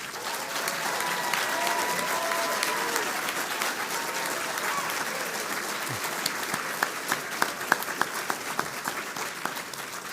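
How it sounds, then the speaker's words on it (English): Sustained applause from a large standing audience at an awards ceremony, steady and moderately distant, continuing for several seconds with a few brighter individual claps near the end. "let's give them a big round of applause"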